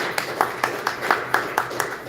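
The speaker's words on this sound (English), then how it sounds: "Let's give them a round of applause and give them encouragement for being here." An audience at a startup event in Germany claps for the pitching startups, evenly spaced claps at a quick, regular beat, moderately loud, with faint background murmur.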